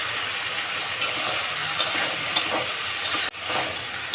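Green chili and cumin sizzle as they fry in a pan for a raw banana, potato and hilsa fish curry, giving a continuous loud hiss with a brief dropout near the end and no talking.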